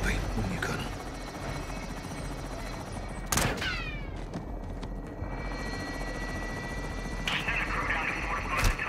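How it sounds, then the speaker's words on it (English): A helicopter in the Modern Warfare 2 video game drones with a steady rotor rumble throughout, joined by sharp cracks around the middle and a bright swelling tone near the end, under a busy game soundtrack. "Heads up on a helo."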